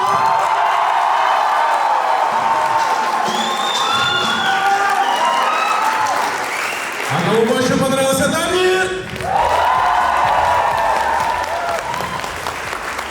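A graduation-night audience claps, cheers and whoops loudly for the contestants, sustained applause with shouts rising through the middle while an announcer talks over the crowd.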